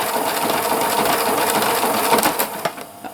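A Pfaff Classic Style sewing machine stitches a buttonhole with its buttonhole foot, a steady, close, fast mechanical whirr that runs throughout and then eases off near the end.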